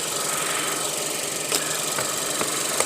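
A car engine runs steadily at idle, a constant even drone with a faint knocking undertone and a few brief clicks near the middle, with no talking.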